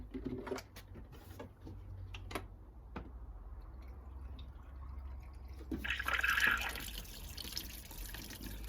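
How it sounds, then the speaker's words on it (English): Water poured from a kettle into the coolant cap of an Aprilia RS50 during a coolant flush, with small drips and splashes building into a louder hissing trickle near the end. "Got some water in a kettle. Just gonna fill it up now. Put some in the cap at the top."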